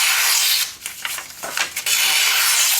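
A Cavol Ripback knife's flat-ground blade slices through paper with a close, loud, dry rasping rub that dips and scratches unevenly in the middle before resuming steadily.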